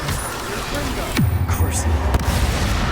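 Spell blasts from Confringo and other curses erupt in Hogwarts Legacy, a loud boom with a sweeping whoosh followed by rumbling impacts and crackles, while a voice shouts spell names over the combat.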